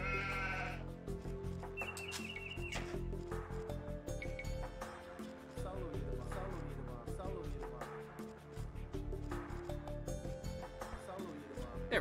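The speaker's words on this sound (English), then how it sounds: "Oh, so many sheep." Repeated sheep bleats ring out over a busy, continuous backdrop of Age of Empires II game music and effects, with a voice talking throughout.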